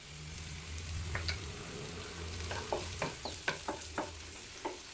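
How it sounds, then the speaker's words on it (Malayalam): Shallots with a little turmeric powder stirred in a pan, a quiet sizzle under a run of spoon scrapes and taps against the pan, with a few sharp knocks near the end. "നന്നായിട്ടൊന്ന് മിക്സ് ചെയ്യാം."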